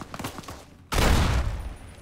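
A single loud burst of gunfire from a gun in Fallout New Vegas with the New Reno mod, booming up after a quieter passage of game sounds and fading slowly.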